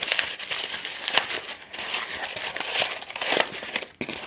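Sheet of paper crumpled by hand for an aged-paper craft, producing dense, close crackling and crinkling that continues steadily for several seconds with brief sharp bursts.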